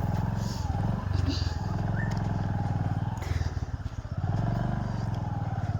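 Motorcycle ridden along a deserted sandy track, its engine droning steadily up close throughout while a rider talks over it.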